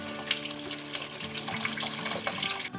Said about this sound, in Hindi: 2 गिलास के करीब मैं इसमें पानी डाल रही हूँ